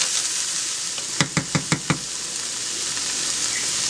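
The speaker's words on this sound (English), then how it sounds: "we're just going to stir this around and get them warmed up" Ground crumbles are stirred and warmed in a hot pan under a continuous bright sizzle, with five quick, evenly spaced utensil knocks against the pan partway through.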